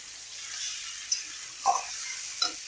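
Pigeon meat frying in a pan with cumin and coriander powder, a soft steady sizzle with a few sharp scrapes and clinks of stirring, fairly quiet and close with no talking.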